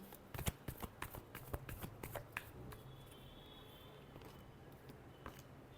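Tarot cards being shuffled by hand in a quiet room, a close run of quick papery riffles and taps that thins out toward the end.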